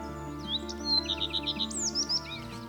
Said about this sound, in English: One of the first birds that I came across singing really quite wildly at the top of this conifer